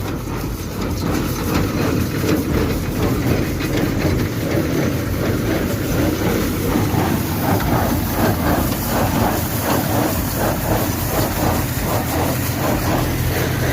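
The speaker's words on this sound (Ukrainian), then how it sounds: "Такий маленький трактор, такий маленький тюк, тюкова машина." A small tractor's engine chugs steadily nearby while its baler makes a rhythmic mechanical clatter repeating throughout, loud and continuous.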